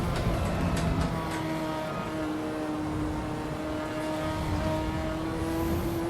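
A Ferrari F40 LM engine in the Assetto Corsa EVO racing game drones loudly and continuously, its tone climbing steadily as the car accelerates, with no one talking over it.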